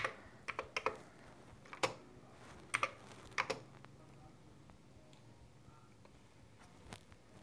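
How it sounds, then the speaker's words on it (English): Keys clatter on a Commodore 64-style computer keyboard during testing, a short burst of sharp clicks and taps in the first few seconds, then a few isolated presses before going quiet. "The keyboard also works."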